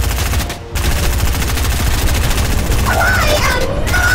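Sustained automatic gunfire from a Fortnite battle against blob monsters, loud and continuous with dense rapid shots, a brief dip near the start, and a voice briefly heard over it.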